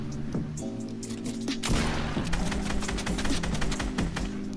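Rapid bursts of video-game gunfire ring out during a Fortnite-style box fight, with an RPG in play: repeated close, sharp shots and thuds layered over continuous game noise, growing denser and louder partway through.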